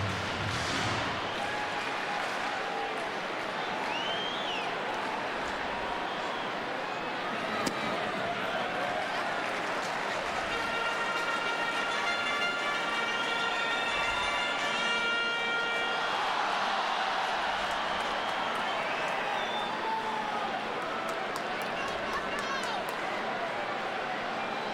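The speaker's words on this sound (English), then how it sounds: "With this huge crowd now on its feet as the Pirates hit 3 consecutive home runs" A huge baseball crowd at a Pirates home game against the Cubs roars continuously on its feet, a dense, sustained wash of cheering with a loud announcer talking over it.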